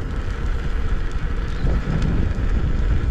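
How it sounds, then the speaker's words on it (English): Steady, loud wind noise buffets the microphone throughout, a broad continuous roar with gusts and no voices, while riding a KingSong S18 electric unicycle near a viaduct by Wolverhampton Dunstall Hill Racecourse. "it's windy today"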